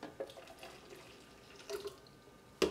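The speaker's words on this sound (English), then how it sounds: "So I'm adding some hot water." Hot water is poured into a citrus-and-herb sauce in a home kitchen, a short, quiet trickling pour with a small clatter at the end.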